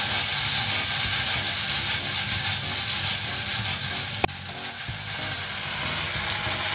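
Chicken frying with spring onion in a pan, a loud steady sizzle and hiss throughout while being stirred, with one brief clack of a utensil against the pan.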